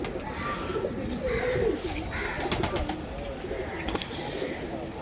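Pigeons kept at Gurdwara Nanak Jhira Sahib coo softly nearby in trees behind netting amid outdoor ambience, with a few chirps from other birds and faint voices in the background.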